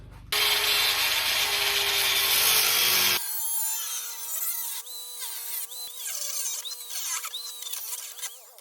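A power tool cuts loudly and harshly into the metal body of a wrecked vintage Aston Martin for about three seconds, then cuts out abruptly and leaves a fading whine as it winds down.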